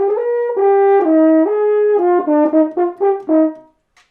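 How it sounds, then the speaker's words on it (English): A horn blown through tight, tense lips plays a series of sustained and shorter notes that step up and down in pitch, bright and buzzy, ending in a few detached tones with no talking. "I'm blowing through lips which are tight and tense, and that's the kind of sound I get"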